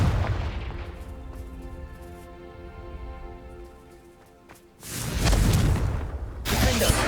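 Confringo fire spell explosions in the video game Hogwarts Legacy, heavy booming blasts with a long rumbling decay, then a second loud burst of crackling noise near the end, with no talking.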